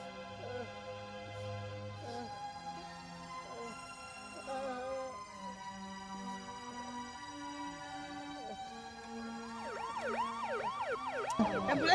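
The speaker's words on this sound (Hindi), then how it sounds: "एम्बुलेंस आ गया भैया। अरे भैया तो एम्बुलेंस को यहाँ ले आओ।" An ambulance siren wails nearby through its changing two-tone and warbling patterns, growing louder at the end as the vehicle arrives at a first-aid training session.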